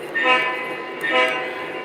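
Lionel and MTH model trains run on a home layout, giving a rolling rumble with two swelling horn-like blasts in a steady rhythm.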